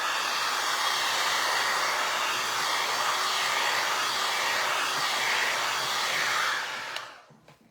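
A hair dryer blows steadily and loudly on decoupage over a vinyl record, a constant broadband whoosh for about seven seconds before it switches off and the sound drops away.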